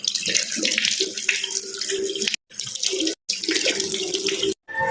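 Water runs steadily from a tap into a sink during face washing, a continuous close splashing rush broken by three brief silent gaps, with no talk.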